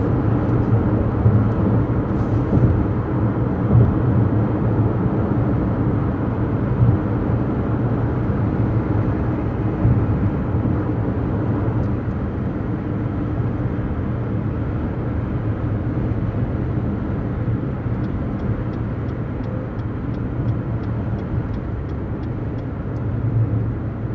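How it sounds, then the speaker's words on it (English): Steady broadband road and tire roar inside the cabin of a 2022 Lexus NX450h+ plug-in hybrid on run-flat tires at highway speed, a constant low rumble that stays level throughout with no voices. "A lot of it is road noise, and a lot of people would say, yes, the run flat tires are noisy."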